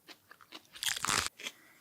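Someone bites into and chews a crisp iceberg lettuce leaf, giving a few soft chomps and then a loud, close burst of crunching before a final smaller crunch.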